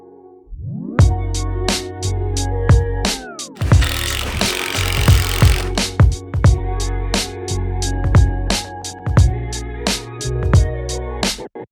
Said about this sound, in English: I'm going to be putting a load of glue in between them and then screwing up from the bottom of the base pieces.